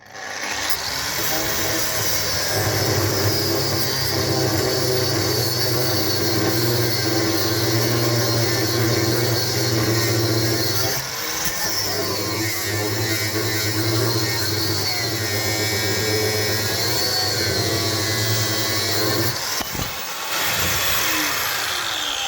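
Metal being cut and ground on a BMW drift car: a loud, steady power-tool whine with a low droning hum runs continuously, dipping briefly twice, with no talk over it.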